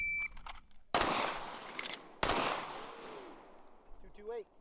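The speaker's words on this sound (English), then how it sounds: "They both shot at the same time." Two shooters firing, giving two sharp, loud gunshots about a second apart, each followed by a long ringing decay, then a brief electronic beep at the end.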